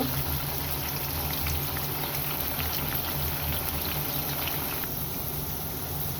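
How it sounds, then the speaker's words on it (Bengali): Ash gourd pieces fry in oil while being stirred, producing a loud, continuous bubbling sizzle that holds steady throughout with no talking. "এখন আমি এটাকে নেড়ে ভালো করে তেলের মধ্যে ভেজে নিব।"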